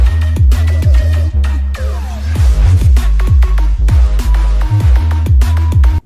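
Song played back with a heavy bass boost applied in Adobe Audition: booming, loud low end pulsing under punchy drum hits and a dense mix, driving steadily throughout with no talking.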